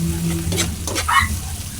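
Ginger sizzles and fries in a hot pan as a base for papaitan, a close, steady hiss with the scrape of stirring over it.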